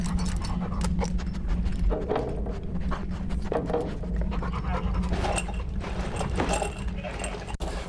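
A police K9 dog working a gun search pants hard and close, a steady rapid stream of breaths running unbroken from start to finish with no talk over it.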